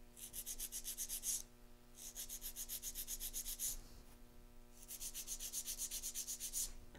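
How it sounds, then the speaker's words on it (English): A 100 grit hand file rasps across acrylic gel nails in three bursts of quick, rhythmic back-and-forth strokes, close and soft, with brief pauses between bursts and no speech. "My first step in filing, I'm going to file straight out from the nail groove on the left."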